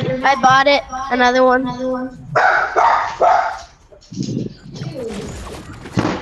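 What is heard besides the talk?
dog barking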